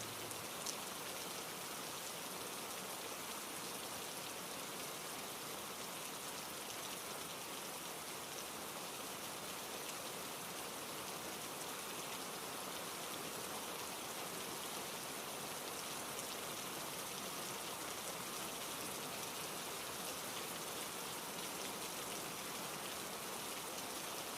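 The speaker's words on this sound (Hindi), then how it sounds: "बद्रीनाथ पहुंचने के बाद से ही बारिश तो चालू था, पर जितनी रात बढ़ी बारिश और बढ़ता गया।" Heavy rain falls at night in Badrinath, a dense, steady hiss with no breaks. The downpour runs unchanged for the whole stretch, and no voices are heard.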